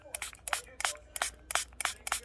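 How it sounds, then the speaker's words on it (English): Spray bottle spritzing water onto dentures, quick soft hissing puffs in a steady rhythm of about eight bursts, close and quiet. "And I spray my tops with the water."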